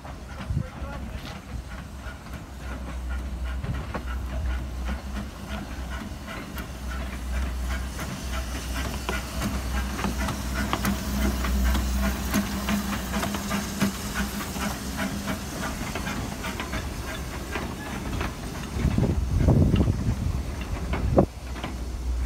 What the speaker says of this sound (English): coming the SKRL train from Chittingbone to Kemsley.